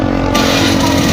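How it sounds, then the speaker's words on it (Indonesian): A 2010 Honda Beat scooter engine revving close by, a loud, steady buzzing drone held through a short burst. "Wow, mesin enak."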